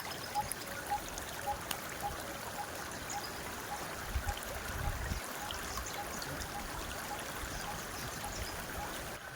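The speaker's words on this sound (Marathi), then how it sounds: "किती स्वच्छ पाणी आहे वड्याचं वाहते" Water trickles and gurgles quietly in a small flowing stream, a soft continuous babble with faint outdoor ambience and a brief low rumble midway.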